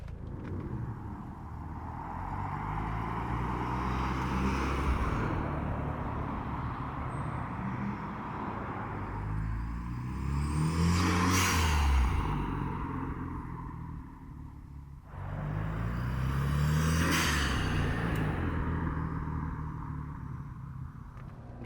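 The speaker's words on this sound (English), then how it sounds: "we're going to show it just driving around the parking lot." A 1994 Mazda RX-7 FD rotary sports car drives around a parking lot, its engine rumbling steadily with two swells of rising revs and broadband road noise, heard up close with no talking.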